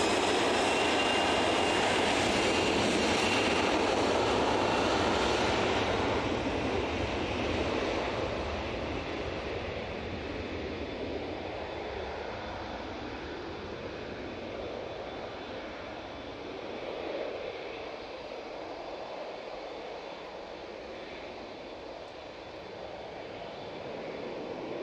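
A Jet2 Airbus A321ceo airliner takes off from Manchester Airport, its engines roaring loudly at first and then fading into a broad, steady rumble as it climbs away, with no talk over it.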